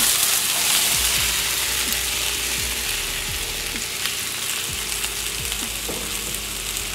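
Two pounds of par-cooked Idaho potatoes frying in hot oil in a cast iron skillet, a loud continuous sizzle close up, with scattered clicks and scrapes of the pan over it.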